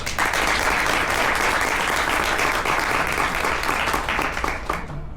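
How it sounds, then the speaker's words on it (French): A large audience at a digital technology festival gives sustained, dense applause, loud and continuous throughout before thinning slightly at the end. "j'aimerais bien qu'on les applaudisse"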